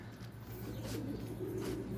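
Pigeons coo softly in the outdoors during a bird hunt, a low, murmuring, repeated warble sitting under steady wind and broadband background noise, fairly faint and continuous throughout.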